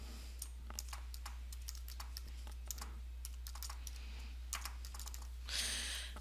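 A password is typed on a computer keyboard in a run of close, quiet, irregular key clicks, ending with a slightly longer rustling press, with no talking.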